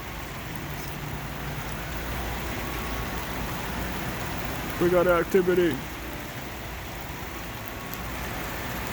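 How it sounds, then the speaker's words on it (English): Steady rain falling in the Arizona desert, a constant soft hiss of drops on surfaces heard from nearby, with a brief louder clatter in the middle and someone speaking briefly. "I haven't seen it rain like this."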